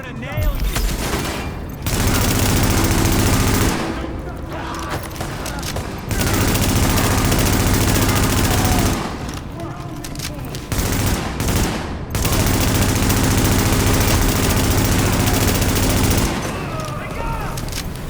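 Gunfire in the video game The Division: loud sustained bursts of automatic weapons fire with booming shots, broken by brief pauses, alongside a low droning background.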